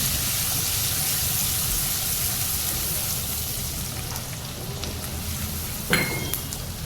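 Dry onions frying in hot oil and melted butter with cumin seeds, a steady broadband sizzle held throughout at close range, with a brief clatter near the end.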